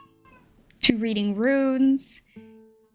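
A pet cat meows loudly and close by, one drawn-out rising meow with a short chirp at the end, while someone speaks softly before and after it.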